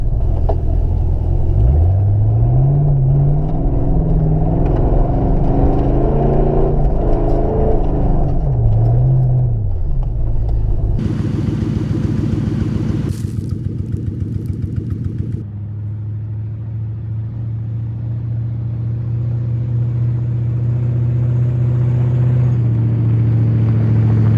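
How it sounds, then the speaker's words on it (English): A lifted Panther driving over grass, its engine rumbling steadily up close with shifting revs and a rising whine, then settling into a lower, even drone. "Drive on the grass for a little bit."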